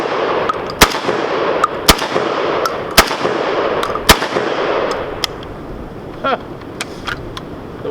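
VEPR 12 shotgun firing Winchester shells from the factory magazine, about six sharp loud blasts at roughly one-second intervals, each followed by brief echo and mechanical clatter, outdoors.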